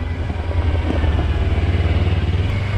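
Adventure motorcycle engine braking downhill on an off-road ATV trail, a steady close low engine drone with rapid pulsing firing rhythm and faint clatter throughout, no talk.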